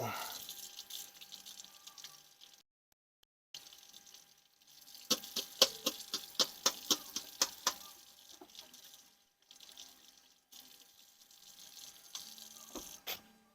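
Sliced mushrooms are rinsed under a running kitchen tap, with splashing and a rapid series of drips and clatters in the sink, close and moderately quiet.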